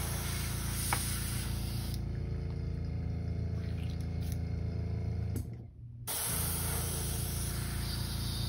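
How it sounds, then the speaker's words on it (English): An airbrush sprays paint cleaner in a steady, loud hiss that runs almost the whole time, stopping briefly for a moment before resuming. "Clean that out of my airbrush."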